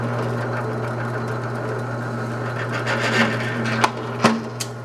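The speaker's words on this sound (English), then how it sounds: "So I'm going to go ahead and drill it out in the center and do the same thing on the other" A power drill bores through the center of a custom spare belt holder for a RZR with a steady motor hum and whine, ending in a few sharp clicks and knocks.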